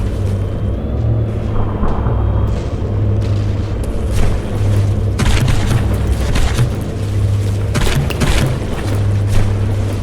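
CRAM cannon shells fire in the naval game From The Depths during a battleship brawl, heavy booms and impacts thudding repeatedly over a constant low engine drone.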